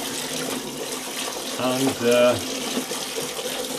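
Tap water splashes while fresh spinach leaves are rinsed in a kitchen sink, a steady close stream that swells in two louder bursts midway, with a brief spoken word over it.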